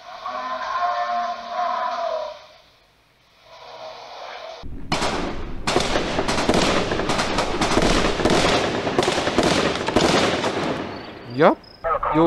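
Gunfire in the video game Occupation 2 breaks out after a quiet stretch, a dense sustained barrage of rapid shots, loud and continuous for several seconds, with a voice speaking faintly before it begins.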